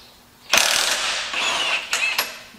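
A Milwaukee power tool set to speed three rattles a 1-1/8 inch nut off a John Deere engine cylinder during a rebuild, a loud sustained mechanical whirring and clatter with a few sharp bursts near the end, no talking.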